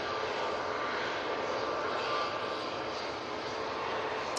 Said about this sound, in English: A321 Neo, now getting ready to go.